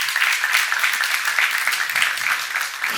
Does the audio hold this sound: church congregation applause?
yes